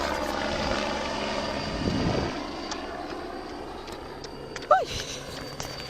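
An aeroplane passes overhead during a solo outdoor long-distance run as a steady, broad engine drone that swells around the middle, with footsteps and faint ambient noise underneath.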